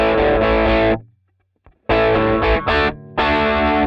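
Distorted electric guitar plays the verse riff of a song in loud, chopped bursts of chords with short gaps between them, no voice over it.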